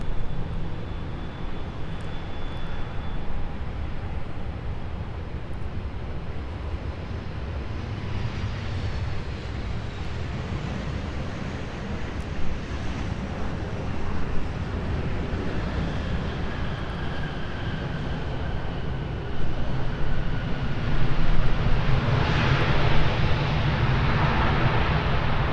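Airliner taking off from runway 17 at Minneapolis–Saint Paul airport, a steady distant engine roar that swells in the final seconds as the jet powers down the runway, with no voices.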